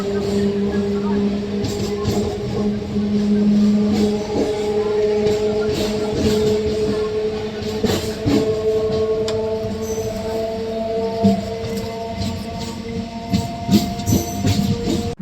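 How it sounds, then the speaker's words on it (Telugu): A MEMU commuter train pulls away from Palakollu railway station with a steady mechanical hum and rising drone, punctuated by clanks and rattles from the carriages, with people talking quietly aboard. "మన ట్రైన్ వచ్చేసండి పాలకొల్లు రైల్వే స్టేషన్ నుండి అయితే స్టార్ట్ అయిపోయిందండి"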